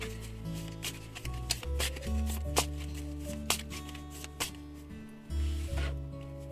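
Tarot cards drawn and laid out from a pile, with soft shuffling and sliding card sounds and a few sharper snaps as cards land, close up, over a low background hum and with no talking.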